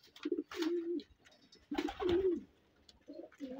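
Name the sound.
pigeons cooing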